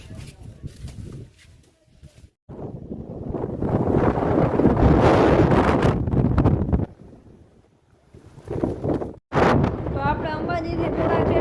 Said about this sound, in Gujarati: પવન હા ફૂલ ચાલુ થઈ ગયો ફૂલ પવન